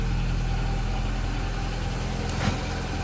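Old 1988 Ford engine idling steadily, a continuous low rumble with a slight irregular pulse, close and loud, with no voices.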